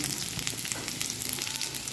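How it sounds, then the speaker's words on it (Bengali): Onions sizzle steadily in hot oil in a kadai, a dense crackling fry that stays loud and close throughout with no voices. "পেঁয়াজটাকে লাল লাল করে ভাজতে হবে।"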